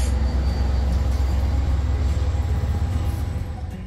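Diesel locomotive 7023 passing by a small military park in Buffalo, Iowa, a loud deep rumble with rolling rail rattle that holds steady and then begins to ease off toward the end.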